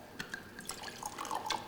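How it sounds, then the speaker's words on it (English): Wine trickles into small tasting glasses in a few faint, close splashes and drips, quiet and irregular. "if you pour some wine into each of those tasting glasses, a little bit more"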